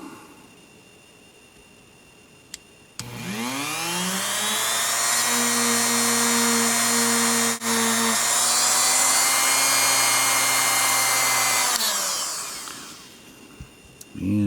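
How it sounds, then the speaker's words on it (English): A Dremel rotary tool spins up with a high whine and runs steadily for about nine seconds while polishing a part of a third-generation S&W pistol, then winds down, close and loud against a quiet background. "polishing this is not a waste of time, so we'll go ahead and take care of that with the Dremel also"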